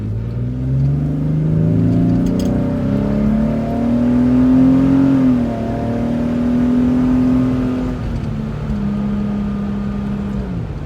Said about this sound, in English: As you can hear, it's a pretty decently, it's a good sounding engine.